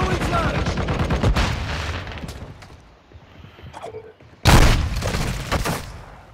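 Gunfire fills a round of Call of Duty: Modern Warfare II, with rapid close bursts and booms at the start, a quieter lull, then a sudden loud volley near the end over muffled game chatter.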